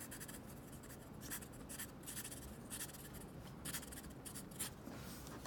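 A TWSBI Eco fountain pen with a medium nib scratches across paper in quiet, close strokes, with soft rhythmic scribbling and faint feedback heard alone.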